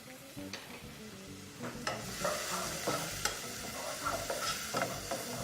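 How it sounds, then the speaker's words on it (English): Chopped peppers sautéing in a pan with spicy tomato and sausage rice, a steady oily sizzle broken by repeated scraping and clinking stirs of a utensil against the pan. "So those are going to saute really well and nicely. And then we're going to give this a nice stir."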